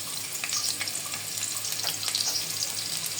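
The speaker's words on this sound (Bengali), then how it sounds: "শুধু রসুন দিয়ে বাগার দিয়ে দিব।" Garlic tempering sizzles in hot oil for a small-fish charchari, a close, steady crackling hiss dotted with small pops and spits.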